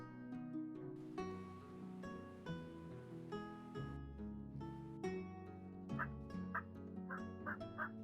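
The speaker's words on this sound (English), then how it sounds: "So we got these turkeys going." Turkeys in the village-building game Settlement Survival, a series of gobbling, quacky fowl calls stacking up one after another at moderate level, with no talk.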